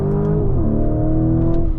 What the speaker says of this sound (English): Okay, switch it to Corsa. V8 is on.